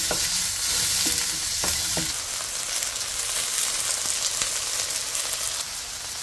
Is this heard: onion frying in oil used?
yes